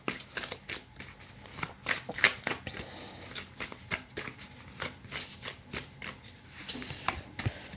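Tarot cards being shuffled and drawn for a pick-a-card reading: a brisk run of close riffling flicks and card slaps in an uneven rhythm, alone without talk.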